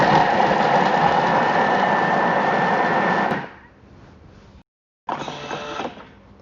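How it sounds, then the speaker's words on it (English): A Thermomix loudly whirs for about three seconds, chopping onion and bacon at speed 5, then spins down into quieter rattling, goes briefly silent, and starts up again at a lower hum. "Now we're going to chop that for 3 seconds on speed 5."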